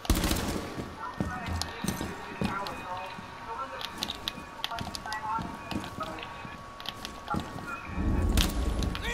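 Video game gunfire in a 2v2 match, sharp repeated shots and bursts sounding in clusters throughout, moderately loud, mixed with someone talking over the action.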